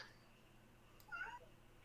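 A cat named Wolf lets out a single faint, short meow in a quiet room during a tabletop role-playing game session, with low steady background noise.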